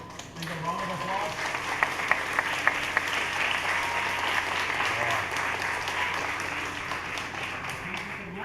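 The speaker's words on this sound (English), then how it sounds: "Take a round of applause." An audience breaks into sustained applause at the end of a talk, a dense, even wash of many hands clapping with a few sharper claps near the start, with a voice faintly beneath it.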